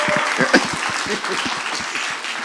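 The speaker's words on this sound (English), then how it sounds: "Be clapping for vacation." An audience claps steadily for a few seconds at a library talk, with a few voices rising briefly over the applause.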